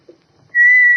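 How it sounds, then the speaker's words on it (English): In an old radio drama, a clear, sustained high whistled note stands in for little carved figures whistling. It starts abruptly after a brief quiet moment and holds steady, loud and close. "These little carved figures can whistle."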